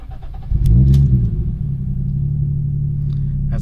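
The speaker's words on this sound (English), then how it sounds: "So we'll just give it a bit of a interior startup, see how loud it sounds." A Toyota Chaser JZX100 Tourer V with a 1JZ-GTE engine starts up, heard from inside the car: a quick crank, then a loud surge that flares and settles into a steady, rumbling idle.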